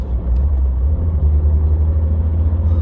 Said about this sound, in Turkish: Arkadaşlar atmosferik motorlarda görüyorsunuz böyle, daha dip gaz yapmadım yani